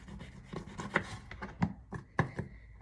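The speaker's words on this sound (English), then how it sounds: "So I'm just going to cut off a slice of lemon." A knife cuts a slice from a lemon on a chopping board, giving a short series of distinct, close taps and scrapes at an uneven pace, quiet and without talk.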